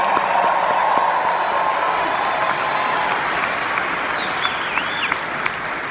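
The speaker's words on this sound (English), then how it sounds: "Can you give her a big round of applause?" A large audience at a company's global convention in 2015 gives a sustained round of applause with some cheering, steady and crowded throughout.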